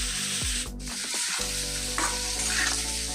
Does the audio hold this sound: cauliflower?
yes